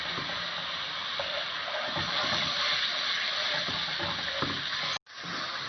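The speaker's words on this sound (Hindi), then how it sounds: "थोड़ा सा मैं इसमें और पानी डालूंगी।" Water pours into a pan of sizzling butter chicken masala, a steady hissing gush over the frying, ending in a sudden cutoff near the end.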